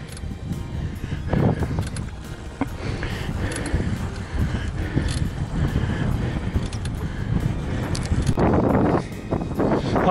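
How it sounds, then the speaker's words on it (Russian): Strong headwind roars across the microphone while cycling along a highway, a continuous gusty rumble with rattling bursts that swell near the end. "Встречный ветер."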